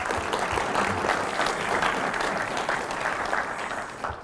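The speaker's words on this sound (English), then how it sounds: "let's give them a little round of applause" A conference audience applauds the organizers in a steady, full round of clapping that stays even and fades slightly toward the end.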